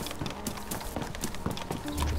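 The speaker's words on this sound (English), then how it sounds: "I hear more footsteps" Footsteps thud in DayZ in a quick, uneven rhythm of soft, close impacts, with no talk.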